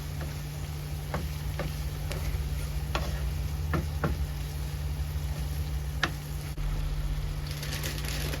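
Butter melts in a pan with a steady, soft sizzling hiss under a constant hum, broken by occasional faint ticks and clicks.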